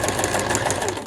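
A sewing machine stitches along a shirt seam during an alteration, a close, steady, rapid mechanical whir with even pulsing stitches throughout the brief moment.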